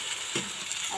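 Alugbati (Malabar spinach) and sardines sautéing in a pan, a dense steady sizzle with a brief scrape of stirring, close and fairly loud.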